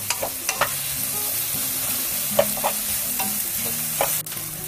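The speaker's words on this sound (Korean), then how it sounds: "열이 오른 팬에 식용유를 약간 두른 후 손질해둔 양파와 감자를 넣고 볶아주세요." Onions and potatoes stir-frying in a little oil in a hot pan for spicy curry udon, with a steady close sizzle and several soft scrapes and clinks of a utensil stirring.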